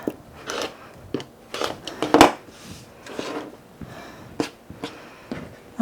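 Quilt fabric squares being cut out, with a series of short, crisp snips and soft rustles at a close distance and no speech.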